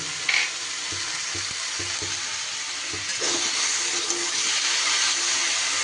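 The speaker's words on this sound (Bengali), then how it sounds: "প্রায় 4 থেকে 5 মিনিট সবজিগুলো এইভাবে নাড়াচাড়া করে নিই।" Mixed vegetables for a Bengali labra-style dish fry in a pan with a loud, steady sizzle, while a spoon stirs and scrapes in soft, irregular knocks throughout.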